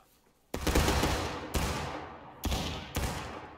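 Musket volley fire in the game War of Rights, in an evening battle at East Wood: four loud, ragged volleys of many muskets, each a sharp crash with a long rolling decay, spaced about a second apart.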